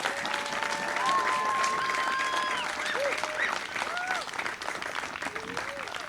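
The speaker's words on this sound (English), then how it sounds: "So give everybody a round of applause." An audience claps at an outdoor band concert, a moderate, steady patter of applause while brief whistle-like tones and faint voices sound through it.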